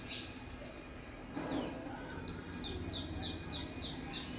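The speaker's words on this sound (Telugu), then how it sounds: "చూడండి పక్షులు" Small birds chirping outdoors in the morning, a series of short bright tweets repeating in a steady rhythm over faint ambient noise, fairly close and moderately quiet.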